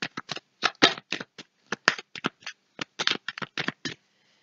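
Cards being shuffled and drawn for a card reading: a rapid series of crisp, close riffling and snapping bursts, irregular in rhythm, with no talking.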